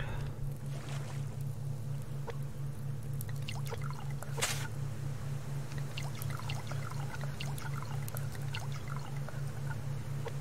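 Water trickles and pours into a container in the survival video game Subsistence. The sound is a faint, steady stream over a constant low hum, with no talk.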